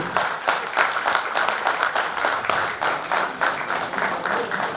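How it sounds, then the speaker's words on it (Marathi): Audience applause breaks out at a school reunion felicitation ceremony, with dense, steady clapping from a crowd filling the whole stretch at a fairly loud, even level. "जोरदार टाळ्या होऊन जाऊ दे."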